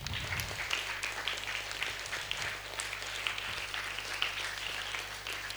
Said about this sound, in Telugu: వాళ్ళందరికీ గట్టిగా చప్పట్లు కొడదాం